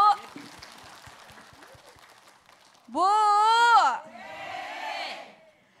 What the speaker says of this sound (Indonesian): Boleh tepuk tangannya sekali lagi buat kita Bu.